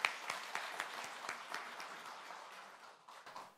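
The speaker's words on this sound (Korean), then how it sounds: "우리 사모님도 한번 우리 축복의 박수 하도록 하겠습니다." Church congregation clapping in blessing for the pastor's wife during a men's mission dedication service, a steady round of applause with a few sharper individual claps, moderately near and fading slightly toward the end.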